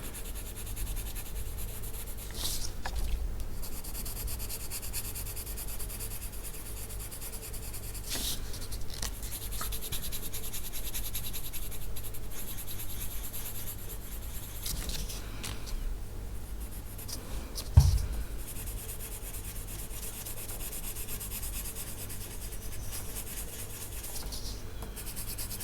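Coloured pencil scratching and rubbing across the paper of a herb-themed colouring book page, a soft continuous scritching of close strokes with small pauses and one brief louder knock near the end.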